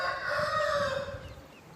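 A rooster crows loudly and close on a farm at evening feeding time, one drawn-out call with hens clucking softly underneath.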